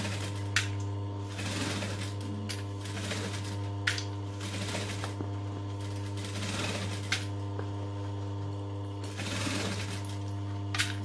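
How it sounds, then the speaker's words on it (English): A sewing machine stitches backpack fabric in a steady mechanical whir with a constant motor hum and small periodic clicks, running continuously and close up with no talking. "I'm just going to start a little bit back from where I ran out of bobbin thread to make sure that I'm locking all of those stitches in."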